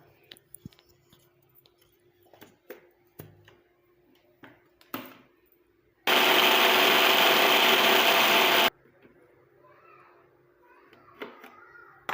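A mixer grinder whirs loudly for a few seconds as it grinds ingredients for a natural hair dye, a steady dense roar starting and stopping abruptly, with quiet handling clicks and taps before and after.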